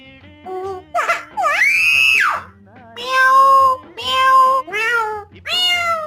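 A pet myna bird mimics a cat's meow in a series of drawn-out, rising and falling wails, several calls in a row, loud and close, with a person's voice around them.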